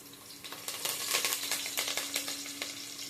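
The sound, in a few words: onion and curry leaves sizzling in oil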